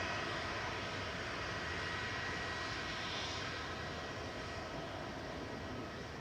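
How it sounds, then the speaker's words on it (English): A Virgin Atlantic Airbus A350-1000 jet taxiing at Manchester Airport, its engines giving a steady, broad rumble and hiss that holds at an even level throughout, moderately distant, with no voices. "Virgin's A350-1000 to Orlando is taxiing out now"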